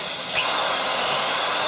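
A power drill bores through metal on a 1968 Firebird under restoration, a brief, close, steady whirring hiss with no voices.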